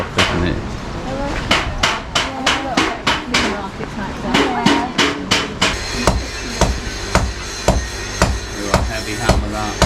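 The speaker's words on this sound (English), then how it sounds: "Ooh, a heavy hammer that." Repeated sharp metallic strikes of a heavy hammer on metal ring out in a steady rhythm in a Turkish workshop, close and loud, with people talking in the background.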